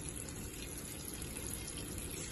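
Tap water runs steadily into a sink while spinach is washed, a continuous close splashing rush with no talk over it.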